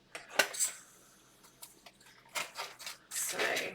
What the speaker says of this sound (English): I'll scrape that off, let none go to waste.